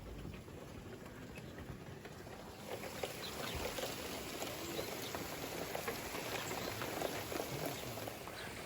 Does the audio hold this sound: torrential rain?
yes